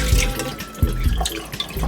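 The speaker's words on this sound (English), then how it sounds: "Use a bit of salt water to do the rinsing." Salt water splashes and drips as a pan is rinsed at an outdoor survival camp, close and loud, with several soft low knocks from the pan.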